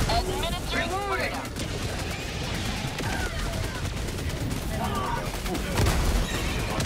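Rapid gunfire and explosions in the video game Helldivers 2, bursts of automatic fire overlapping with booms and in-game radio voices, dense and continuous across the clip.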